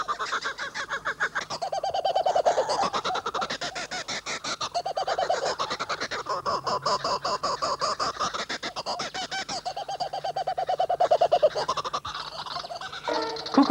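A family of kookaburras calls in chorus, a loud, raucous cackling made of rapid repeated notes that rise and fall in waves for about fourteen seconds.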